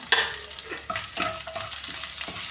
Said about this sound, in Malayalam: ഈ കറിവേപ്പിലയും വറ്റൽമുളക് ഇതും കൂടി ഇട്ട് കൊടുക്കുകയാണ്